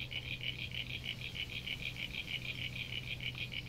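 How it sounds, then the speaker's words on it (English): Crickets chirping in a video game: a dense, steady pulsing trill repeats evenly throughout over a low background hum, with no voices. "I'm hearing crickets."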